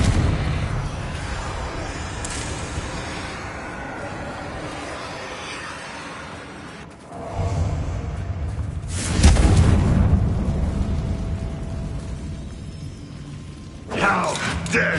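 Explosive fire spells blasting during combat in the video game Hogwarts Legacy, with loud booms and bursts of crackling noise over a continuous rumble of battle and speech.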